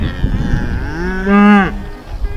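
On a farm in winter, a cow gives one loud, drawn-out moo close by, rising and then breaking off, with faint rustling around it.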